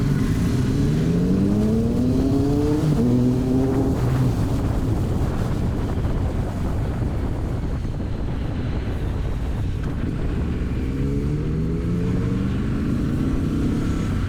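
A Triumph Street Scrambler motorcycle engine with stock Euro 5 exhaust hums and shifts pitch while riding, rising and falling through gears under heavy wind buffeting on the microphone.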